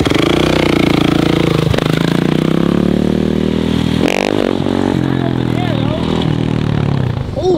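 A dirt bike rides with its engine droning and revving, with scraping and clattering bursts, loud and close, while voices talk over it.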